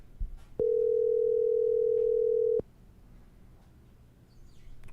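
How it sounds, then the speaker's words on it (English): A steady telephone dial tone hums for about two seconds, loud and clear against faint background noise, then cuts off abruptly. "Nothing better than the dial tone, the ring"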